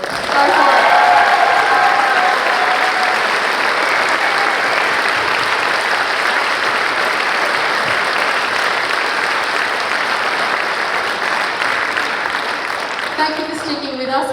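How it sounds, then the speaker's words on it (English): Sustained audience applause fills a cabaret performance hall for a group of students, a dense steady wash of many hands clapping that holds for about fourteen seconds before tapering slightly at the end, with faint voices underneath. "I think they need one more applause. Go for it."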